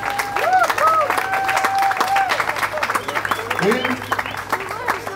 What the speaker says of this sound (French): vous méritez à vous-même une grande main d'applaudissement envers vous-même